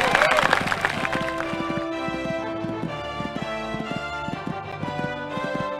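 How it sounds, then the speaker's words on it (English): Horse hooves thud in a rhythmic clip-clop during show jumping at a Kentucky three-day event in the video game Equestriad 2001. The hoofbeats sit under loud, continuous tonal game music. "This horse is jumping well for her."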